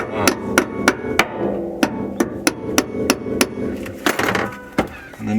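Sharp metallic hammer strikes on a Mercedes W124 rear shock absorber ring out close by, about a dozen blows in an uneven rhythm, some quick pairs, with faint talk underneath.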